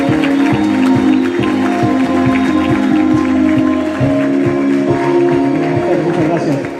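Loud applause welcoming a speaker at an international business administration congress, sustained crowd clapping under a steady musical backdrop that holds throughout.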